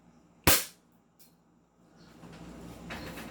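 An Umarex Glock 17 airsoft pistol fires a single sharp, loud crack up close, followed by a faint click and quiet low rumble.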